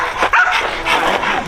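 A 70-pound working dog barks and yips in short, loud bursts during spring pole training, the sounds close and forceful.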